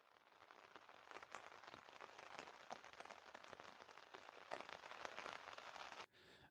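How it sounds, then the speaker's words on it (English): Steady rain patters on a surface along the Colorado Trail, a dense, even shower of close drops that continues without pause and drops off abruptly near the end. "It's been going, though, pretty steady for a while now with no sign of letting up."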